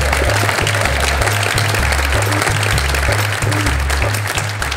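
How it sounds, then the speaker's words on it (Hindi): Loud, steady applause from a group fills the whole stretch, dense clapping without a break. "ताली।"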